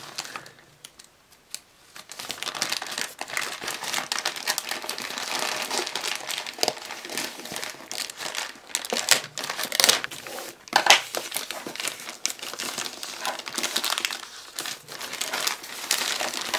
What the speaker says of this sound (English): Start by cutting this end right here and then we can cut right through.